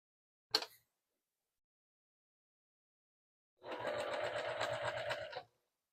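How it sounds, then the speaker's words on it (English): A sewing machine runs a short quarter-inch seam on a zippered pocket, a steady buzzing burst of about two seconds after a single brief click and a long pause, close and alone with no talking. "we're going to sew a 1/4 inch seam here, here, and here."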